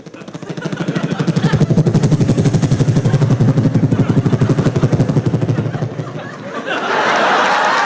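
A comedian on stage imitates a helicopter with his voice, a loud rapid rhythmic chopping that runs for several seconds before giving way to audience applause.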